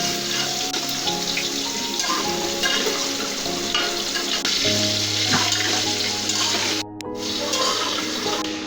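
Mixed vegetables frying with spices and green chillies make a dense, close sizzle, with spatula stirring scrapes throughout and a brief break near the end.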